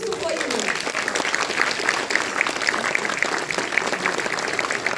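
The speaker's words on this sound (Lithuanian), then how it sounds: "Jūsų plojimai!" An audience applauds at a mixed choir's 30th anniversary jubilee concert in Domeikava, a steady dense clapping that fills the hall throughout, with a voice speaking over it at the start.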